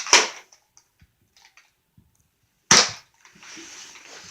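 Nerf gun firing foam darts at stacked wooden blocks, two sharp pops a few seconds apart, each followed by light clattering of the blocks; close, no speech.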